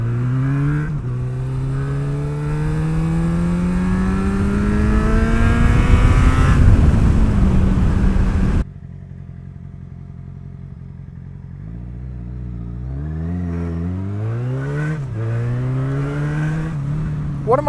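A motorcycle engine revs and pulls hard through the gears while riding on local roads, loud and close, dropping abruptly before climbing again with rising shifts.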